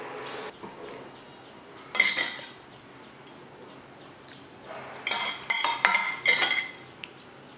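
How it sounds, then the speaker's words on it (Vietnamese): Sour clam soup being served into bowls in a home kitchen, with scattered clinks of a ladle and spoons against ceramic bowls and a pot, loudest in bursts near the end. "Bây giờ rút ra bát rồi chúng ta sẽ ăn thôi."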